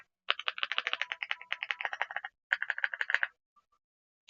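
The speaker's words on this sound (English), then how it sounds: "let's go ahead and take a look at what this keyboard sounds like" Rapid, close clicking keystrokes on an RD75 Pro mechanical keyboard with deeper-sounding switches, a dense burst of typing, a short pause, then a second quicker run before falling silent.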